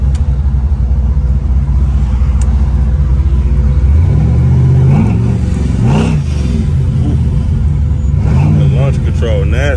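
A Chevy box car engine revving hard under acceleration, rising whoops of throttle climbing and falling several times over a constant loud rumble, close by, with someone talking over it.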